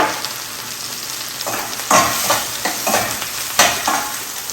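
Sliced onions and spinach sizzle loudly in a hot pan, with repeated bursts of stirring scraping through the steady frying hiss.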